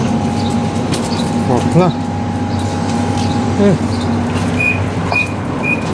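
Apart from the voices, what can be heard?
tram, line 5, riding and running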